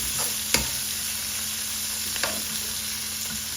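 Curry leaves sauté in a pan of hot oil for a crab curry, giving a steady, close frying sizzle with a few sharp stirring knocks against the pan.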